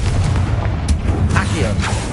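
A Confringo spell explodes in the Hogwarts Legacy video game, making dense booming bursts over a continuous rumbling backdrop of game sound.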